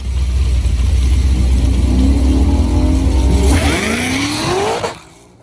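A supercharged car fitted with a Kong 2650 supercharger roars loudly down a drag strip at full throttle, engine pitch climbing through gears before cutting off abruptly near the end.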